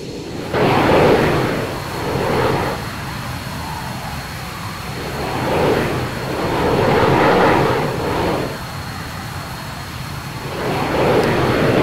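An A-10 Warthog jet in Arma 3 spools up and rolls for a short scramble takeoff, loud droning engine roar that swells and fades in repeated waves.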